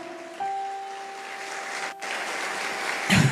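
A church congregation applauds in a steady, dense patter that continues throughout, under sustained keyboard tones, with a brief dip near the middle and a louder burst at the end.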